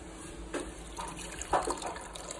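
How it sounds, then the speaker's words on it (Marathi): A glass of water being poured at home, a quiet splashing trickle in a few faint bursts over a soft background hiss, with no voices. "काही आता आपण घेऊया इथे एक ग्लास पाणी।"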